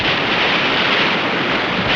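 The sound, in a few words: whale tail splashing water in story sound effect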